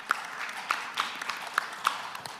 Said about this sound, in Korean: 발표자와 토론자에게 다시 한번